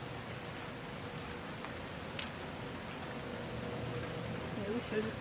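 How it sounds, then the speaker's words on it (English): Steady rain falls throughout during a wet July day, a constant broadband hiss of drops with voices talking over it and a few brief knocks. "It's like been non-stop rain though, that's the thing."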